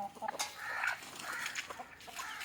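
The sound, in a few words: native chickens clucking while eating old rice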